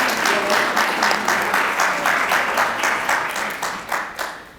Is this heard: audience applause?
yes